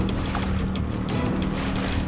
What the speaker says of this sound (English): some nice rollers here